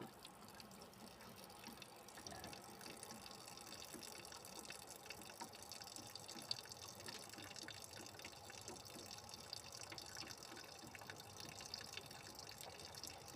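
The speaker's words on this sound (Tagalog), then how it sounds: "Kaso bumagal yung gripo natin." Slow-running water tap at a truck stop in Europe, a faint continuous trickle and splash heard alone at low level throughout.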